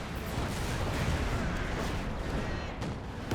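Battlefield gunfire in Company of Heroes 2, with shots fired through a hedgerow, forms a dense, continuous roar of crackling, booming reports that stays loud and unbroken throughout.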